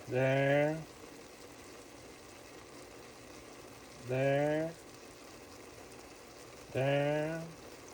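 Chili with meat simmering in a pot gives a steady, soft bubbling hiss throughout, with a voice speaking in three short bursts over it.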